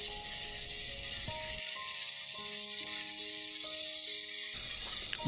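Pieces of beef brisket coated in Korean chili paste sizzle over gentle heat in a wok, a continuous close frying hiss with light crackle and short pauses.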